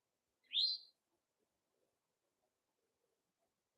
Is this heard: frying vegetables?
no